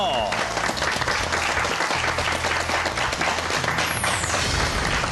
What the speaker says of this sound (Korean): 여러분, 박수로 모셔볼까요?